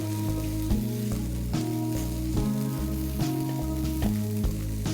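Ingredients sauté in a pan for a South Indian home-style dish, giving a steady, close sizzle throughout with periodic stirring, under continuous background music.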